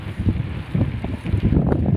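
Gusty wind buffets the microphone while riding a bicycle, rough, uneven bursts, a loud low rumble that swells and fades with no voices.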